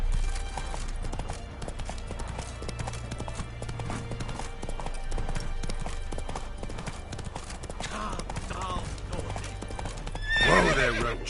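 Roach, the horse in The Witcher 3, clip-clops along at a steady gallop with close hoofbeats, snorts and a brief whinny near the end, while a voice speaks over the movement.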